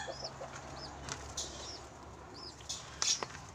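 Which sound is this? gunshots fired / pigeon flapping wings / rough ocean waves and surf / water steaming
pigeon flapping wings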